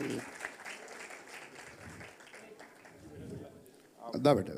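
Applause from an audience at a ceremony where medical students receive stethoscopes and white coats. Scattered clapping runs under someone speaking through a public address system and swells briefly near the end.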